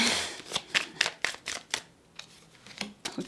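Tarot cards are shuffled in quick, crisp riffling bursts, a rapid run of close papery flicks and taps with short pauses between.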